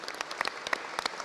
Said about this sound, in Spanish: Y con música y aplausos nos despedimos